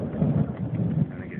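Thunderstorm at night with rumbling thunder from lightning strikes, a low continuous roll that swells and fades over steady rain-like noise, moderately loud and close.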